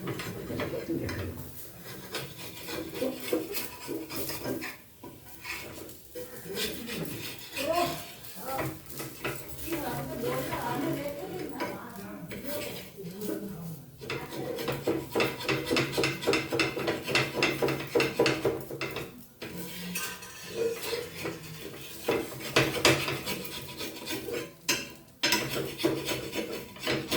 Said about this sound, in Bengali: তেলের মধ্যে খুন্তিটা নিয়ে আমি এটাকে তুলে ফেলব